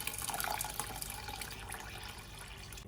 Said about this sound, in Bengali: পানিটা ঝরিয়ে নিয়ে আবারও আমি পানি অ্যাড করছি।